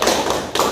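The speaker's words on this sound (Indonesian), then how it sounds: "kalau tidak ada kita berikan tepuk apresiasi" A classroom of students gives rhythmic appreciation clapping for a presenting group, two quick bursts of close claps with a short gap between them.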